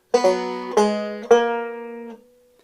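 Three plucked banjo pickup notes on the fourth string ring out one after another, bright and twangy, the last one sustaining and fading away alone, from a tune.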